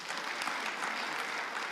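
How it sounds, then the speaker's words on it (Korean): Audience applause for a professor at a Korean pro-nuclear-power gathering, steady dense clapping filling the whole stretch, fairly far and even, with no talk over it. "우리 주한규 교수님께 다시 큰 박수 한번 부탁드리겠습니다"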